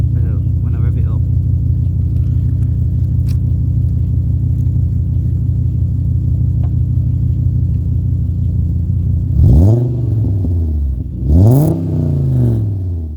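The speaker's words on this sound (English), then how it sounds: "I'll let you have a listen to when I rev it up." Engine of a VW Beetle with a 2.3 V5 idling steadily at close range, then revved twice in sharp bursts near the end, each rise followed by a falling return to idle.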